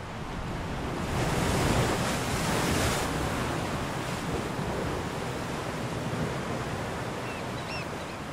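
Strong waves surge across the rocky intertidal zone at De Hoop, South Africa, as a continuous hissing roar with a louder swell of breaking water early on. Wind buffets the microphone throughout, and no one speaks.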